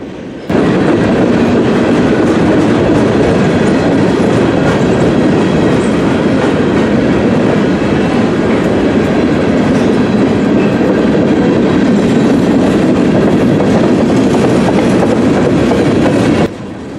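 A grain train, including an old Chicago, Rock Island and Pacific grain car, rolls steadily past at close range, a loud continuous rumble of railroad cars with clickety-clack wheel noise throughout.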